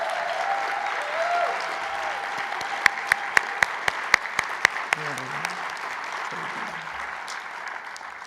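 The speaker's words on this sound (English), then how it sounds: "let's give them another round of applause" A large audience at a New York performing-arts awards ceremony applauds in a steady, moderately loud wash, with a few sharp, close individual claps standing out near the middle.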